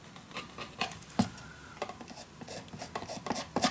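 Paper letters on a Christmas mini album are burnished flat with soft, scratchy rubbing strokes, close and quiet. The strokes come in short irregular bursts with brief pauses between them.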